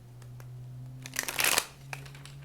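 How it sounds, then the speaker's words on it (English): Tarot cards are shuffled in a brief riffling flutter lasting under a second, close and soft, over a faint steady background hum. "I hear shuffle 3 times, cut once."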